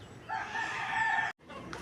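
A rooster crows once, a drawn-out call lasting just over a second, fairly close, followed by a short break and faint background noise.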